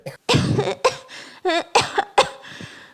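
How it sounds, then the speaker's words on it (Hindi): A burst of harsh coughing, several loud close coughs in quick succession with short gaps between them, and no talking. "चील एक ही घूंट अनार के जूस का पीती है और उसे खांसी शुरू हो जाती है।"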